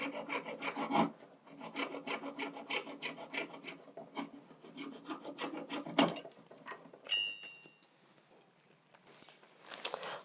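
A saw blade cuts through a wax block in quick, regular rasping strokes close by, with a few sharper knocks and a quieter stretch near the end.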